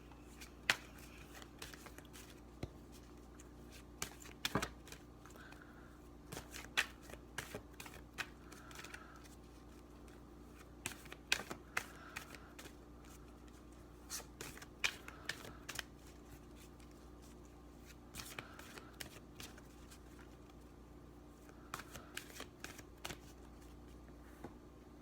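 An Archangel Oracle card deck is shuffled by hand, with quiet, irregular card riffles and soft taps over a faint background hum, close and soft throughout.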